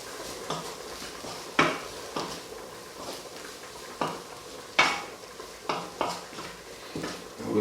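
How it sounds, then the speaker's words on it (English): Leftover spaghetti sauce being stirred and fried in a pan, a spoon scraping and knocking against the metal every second or so over a soft, steady sizzle. "Mix it a bit."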